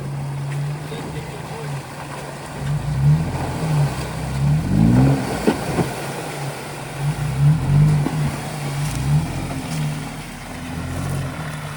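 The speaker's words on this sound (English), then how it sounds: "That Toyota engine with the supercharger, gosh, sounds so good." A supercharged Toyota engine revs in several bursts over a steady idle, rising and falling in pitch, with some rumble and background noise between pulses, on an off-road trail in the Ozarks.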